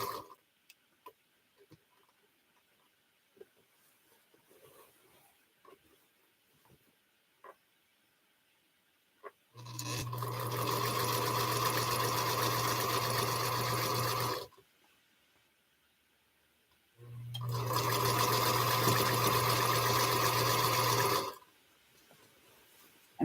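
Sewing machine stitching 1.5 inch quilt strips, two separate bursts of steady whirring a few seconds each, split by a pause, with faint light clicks and handling noise before them.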